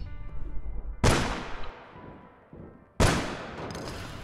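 Two loud, close gunshots from the APB Reloaded shooter game, about two seconds apart, each a sharp crack with a long echoing decay.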